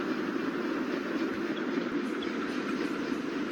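A coal train engine running on the rails, a steady low rumble with continuous mechanical roar, moderately loud and unbroken, no voices present.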